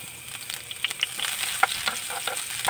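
Garlic hits a hot pan for salsa, giving a bright, steady sizzle with small pops and light stirring clicks, close and clear with no talking.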